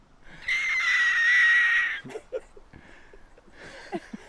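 A person screams in imitation of a dinosaur at a disc golf world championship broadcast, a loud sustained high-pitched shriek of about a second and a half, followed by scattered crowd noise and brief voices.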